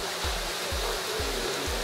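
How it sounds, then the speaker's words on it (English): Water pours steadily into a deep water culture bed that serves as a settling tank, giving a continuous close rushing splash with faint regular low thumps beneath it. "The water enters in down here,"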